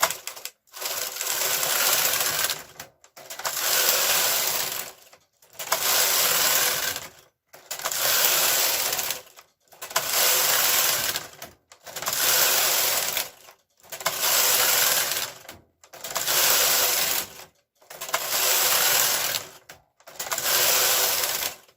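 A knitting machine carriage is pushed back and forth across the bed in plain knitting, giving nine even, loud clattering passes of about two seconds each, separated by short pauses, with no talk.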